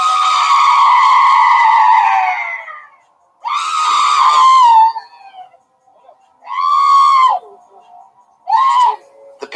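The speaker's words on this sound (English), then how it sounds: "As she continues to scream in defiance, the man then appears to be holding her jaw and temple as she screams." A woman being restrained screams in four long, loud, shrill bursts separated by short pauses, each cry trailing off, with faint sounds in the gaps.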